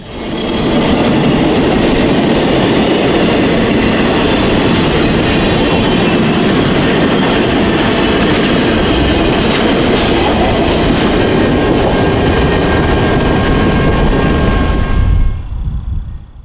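Steam train 261 rolls by close and loud, rounding a curve, a steady heavy rumble with rail clatter and a high metallic whine, cutting off abruptly near the end.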